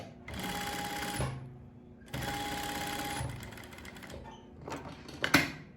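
A sewing machine stitching a cargo pocket runs in two steady bursts of rapid mechanical chatter, each about a second long, close and clear. Softer clicks and handling noises of fabric and the needle being adjusted follow.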